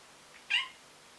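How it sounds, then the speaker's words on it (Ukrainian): A cat in a home gives a single short, plaintive meow that is fairly faint and sounds as though it comes from a little distance in a quiet room. "Тому, якщо періодично ви чуєте якесь шкрябання і плач, як оце зараз, то все стеша."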